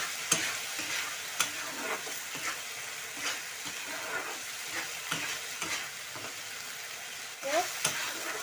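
Tender bottle gourd pickle being stirred in a pan once the lid comes off, cooked without water: a soft background sizzle broken by repeated scraping strokes of a spoon, fairly quiet and close.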